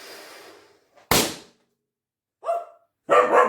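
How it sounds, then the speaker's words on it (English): Leia the dog barks after a blown-up balloon bursts: a sharp pop, then a loud bark and a second, more drawn-out bark close by. "as you can hear, that scared my dog Leia"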